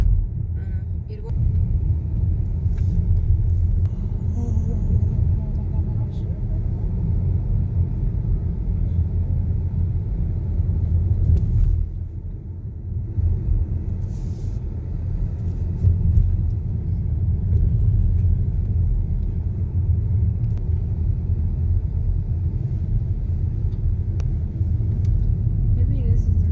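A car rolls along a rough, bumpy road toward a waterfall in Oregon, with a steady low rumble and road noise throughout as the people inside talk over it.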